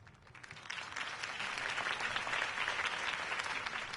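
A crowd claps and cheers steadily at a political campaign speech, the applause swelling slightly and holding at a dense, even level throughout, in the video game Batman: The Telltale Series.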